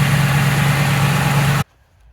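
A 1968 Camaro convertible engine idling while warming up, a steady low rumble close by that cuts off abruptly near the end, leaving near silence.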